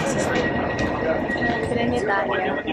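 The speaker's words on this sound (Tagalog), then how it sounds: "We're taking the train bound for Catania" Train running from Messina toward Catania in Sicily, a steady broadband rumble with rail noise throughout, busy with people talking nearby over the whole stretch.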